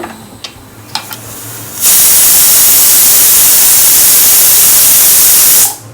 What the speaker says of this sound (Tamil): 2 விசில் வந்துருச்சு. அடுப்பு ஆஃப் பண்ணிடுங்க. Cooker whistle அடங்கிருச்சு.